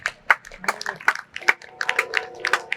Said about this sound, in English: Give her a round of applause, ladies and gentlemen